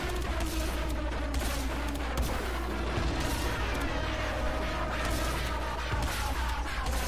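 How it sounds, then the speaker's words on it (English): Continuous gunfire during a Warframe Sister boss fight, a dense unbroken wash of rapid shots and impacts with a steady low rumble, loud and even throughout. "Well, I'm shooting away."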